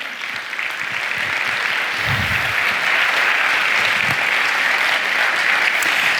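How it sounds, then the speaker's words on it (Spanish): Steady audience applause fills a stage talk on powerful women in history as a novelist is welcomed on, dense and sustained for the whole stretch, with a brief low murmur of voices partway through. "Un aplauso para Isabel."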